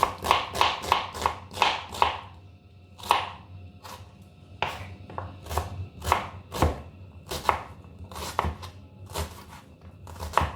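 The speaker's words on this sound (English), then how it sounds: "And I've got to chop the broccoli florets" Broccoli florets being chopped with a knife on a board for soup, a quick run of close, crisp cutting strikes at first, then slower irregular chops with short pauses, no talking.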